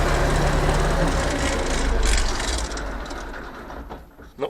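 A YuMZ tractor's D-240 diesel engine runs warm at idle close by, a dense low rumble that stays loud and steady before easing slightly toward the end.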